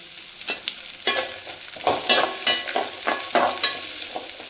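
Onions and cashews sautéing in a pan, a close, busy sizzle punctuated by repeated scraping strokes of a spatula stirring in an uneven rhythm, with no one speaking.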